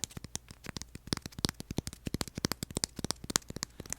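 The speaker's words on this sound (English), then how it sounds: "I'm in love with that tapping sound" Fingertips tapping on a dried slime waffle as an ASMR trigger, a rapid, uneven stream of crisp, close-up clicky taps, dense and continuous, with no voice.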